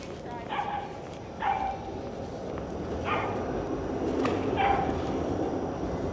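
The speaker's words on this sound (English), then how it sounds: "Hey, Dexter, what are you barking at?" A dog barks outdoors on a walk in a park, four short sharp barks spaced about a second apart over a steady background rumble, with a person speaking in between.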